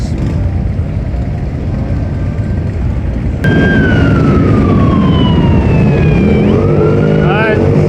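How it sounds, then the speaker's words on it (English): New York State Police sirens start up suddenly and wail over a steady rumble of engines and crowd noise at a parade, rising and falling with a short yelping burst near the end. "Alright, sirens are sounding."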